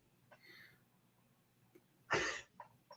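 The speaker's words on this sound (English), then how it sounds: "I feel like I had to sneeze." One sharp, close sneeze bursts out after a few quiet sniffly breaths in a brewery setting, followed by a short trailing exhale.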